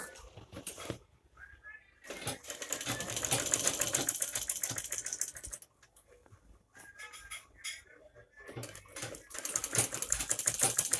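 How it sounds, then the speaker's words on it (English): Stitching on a baby nest, a sewing machine whirs in several close bursts separated by brief pauses, with backstitching at the start and end of the seam. "Make sure when you start your sewing you backstitch, and when you end you also backstitch to tighten your stitch."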